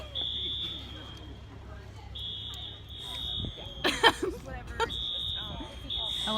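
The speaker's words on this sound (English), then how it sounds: "I heard some slight beeping" A fire alarm gives repeated high-pitched electronic beeps, moderately loud in an indoor room, while people talk and move around.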